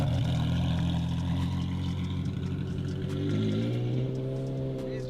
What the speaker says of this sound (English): This exhaust is so much louder.